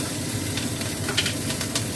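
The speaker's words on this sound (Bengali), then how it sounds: "একটু ঘি দিয়ে দিলাম আগে, অল্প করে একটু ঘি দিলাম। এই কাঁচা লঙ্কা দিলাম ফোড়নে" Green chillies sizzle in a little hot ghee for a tempering on a gas stove, a steady close crackling hiss with small pops and no talk.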